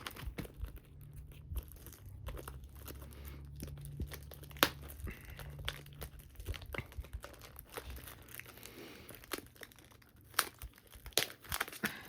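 Tough plastic shrink wrap is torn off a Pokémon Stellar Crown booster box close by, with steady crinkling and crackling broken by sharp snaps and rips.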